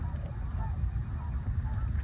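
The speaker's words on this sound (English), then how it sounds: "it's a lot of geese. Sounds like 30 or more." A dense chorus of honking geese, a flock of thirty or more calling at once from a moderate distance, steady and continuous throughout.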